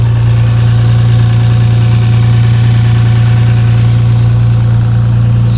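A high-mileage, wrecked Audi R8 engine runs at a steady loud idle close by, with a strong continuous low hum and no talking.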